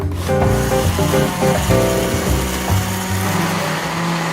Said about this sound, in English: you can hear the blender